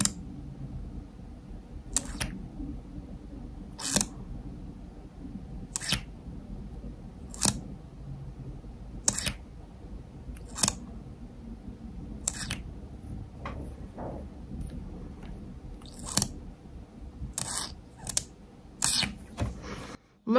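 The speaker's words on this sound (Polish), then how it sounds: "przesłuchajmy, jak brzmi otwieranie takiego błyszczyka" Small clicks and snaps from opening a lip gloss tube, a dozen or so sharp, close, isolated ticks spaced every second or two over a soft low background hum, with no talking.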